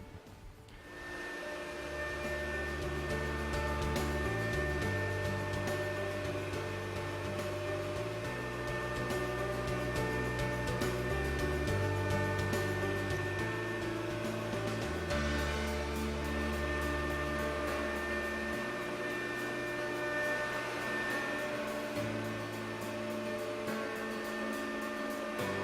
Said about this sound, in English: We need to move out to this router because that's really where our expertise is on this CNC machine.